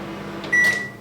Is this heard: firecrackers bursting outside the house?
no